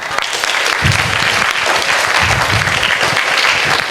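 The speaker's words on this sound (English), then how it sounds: "would you clap for me today?" Room full of listeners breaks into loud, dense applause for a speaker, many hands clapping in a continuous roar that holds steady for several seconds.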